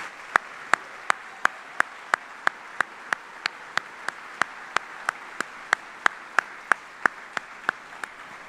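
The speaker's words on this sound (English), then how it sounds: "So please join me in a round of applause for all our family members here and who are not here today." At an Army general officer retirement ceremony, a crowd gives a round of applause for family members, heard as a soft, even wash of clapping with loud, regular sharp claps standing out close by at a steady beat throughout.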